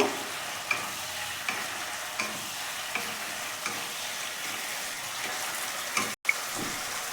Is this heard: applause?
no